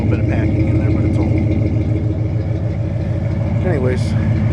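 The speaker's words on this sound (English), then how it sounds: "that's the old exhaust. That's what it sounds like." A 1995 Ford F150 engine with old shorty header exhaust idles steadily, a loud, continuous low rumble throughout with no talking.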